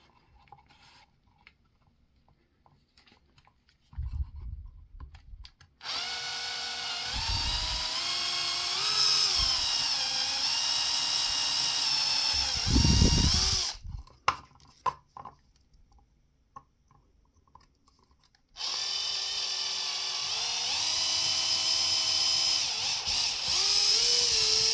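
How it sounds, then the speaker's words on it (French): A power drill with a 2 mm bit bores pilot holes in two long whining runs separated by quiet pauses with clicks and handling noise, while a portable multiband HF vertical antenna is being built. "il va falloir faire des avant-trous. Alors pour cela, je vais utiliser une mèche de 2 mm de diamètre."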